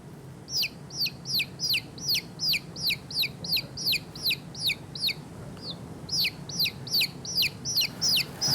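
Chicks on a poultry farm peep in a steady run of rapid, high, bright calls, fairly close, with a short pause partway through over a low background hum.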